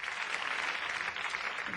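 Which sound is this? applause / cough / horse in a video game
applause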